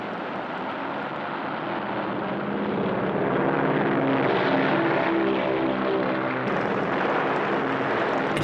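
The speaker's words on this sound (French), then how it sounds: "Les porte-avions américains embusqués à proximité de Midway lâchent leurs avions à l'assaut de la flotte impériale japonaise." US carrier-launched propeller warplanes attacking the Japanese fleet near Midway, a loud continuous engine drone that thickens and grows slightly louder midway, steady and unbroken with no voices.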